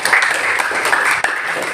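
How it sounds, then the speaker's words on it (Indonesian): A classroom audience applauds at a teacher-training session in Banda Aceh, with steady, dense clapping close by for the whole stretch. "Kita kasih tepuk tangan dulu."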